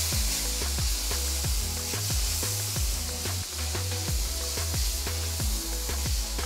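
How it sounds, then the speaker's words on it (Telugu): Chopped onions, green chillies and medium tomatoes frying for egg tawa pulao, with a loud, steady sizzle and rhythmic stirring scrapes in the pan. "చిన్నగా తరిగిన 2 పచ్చిమిరపకాయలు, చిన్నగా తరిగిన 2 మీడియం సైజ్ టొమాటోలు వేసి బాగా వేయించాలి."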